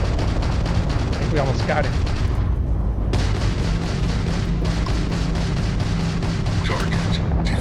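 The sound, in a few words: spaceship firing missiles in the video game Starfield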